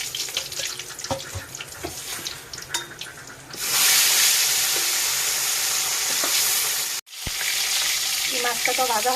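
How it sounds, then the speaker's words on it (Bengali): Fish fries in a pan with a loud, steady sizzle that rises suddenly partway through and continues after a brief cutoff, preceded by lighter clinks and kitchen sounds. "এই মাছটা তো ভাজা হয়ে গেছে"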